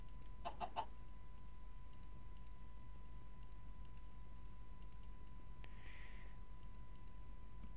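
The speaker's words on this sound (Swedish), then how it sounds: "Här kyckling." A Minecraft chicken gives a couple of quick clucks early on, fairly quiet against a steady low hum and faint clicking, followed later by a brief soft rustle.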